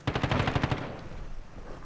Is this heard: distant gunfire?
yes